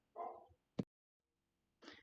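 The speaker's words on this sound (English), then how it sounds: "Trigger was barking outside at the door" Dog barking outside at a front door: two muffled barks with a short yelp between them, somewhat distant and heard through the door, with silence in between.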